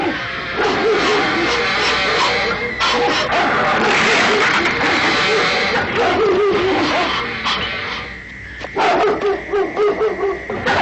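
A pack of dogs barks and yips loudly in the jungle, a dense continuous clamor of overlapping barks that thins out near the end, with faint voices underneath.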